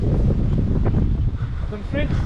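Gusty wind buffets the microphone at Maho beach on Saint Martin. The rumble surges and dips throughout, with faint sounds of people in the background.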